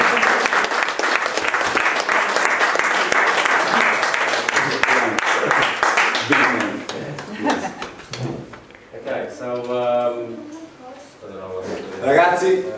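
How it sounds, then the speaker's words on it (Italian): A group of cycling team members at a Franciacorta training camp claps in loud, sustained applause that fades out, followed by people talking. "ragazzi, un mega applauso per il timone"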